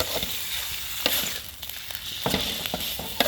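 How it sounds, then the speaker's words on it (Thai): Pork belly sizzles in a small hot pan while an oversized spatula scrapes and knocks against it in irregular strokes, close up, with no voices. "เป็นผัดเผ็ดนะครับ ผัดเผ็ดหมูสามชั้นนะครับ"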